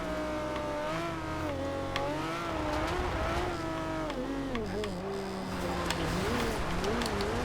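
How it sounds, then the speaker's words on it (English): A 2010 Aston Martin One-77 with a 750-horsepower engine in the racing game Forza Horizon 2, loud and continuous, its revs climbing and dipping through gear changes as the car drives hard. "750 horsepower engine is definitely doing its job."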